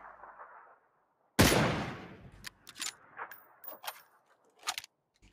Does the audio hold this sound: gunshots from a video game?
yes